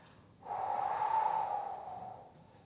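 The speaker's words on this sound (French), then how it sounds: "Et souffle." A single long, breathy exhale during a floor exercise rises sharply, holds for about two seconds, then tapers off in a quiet room.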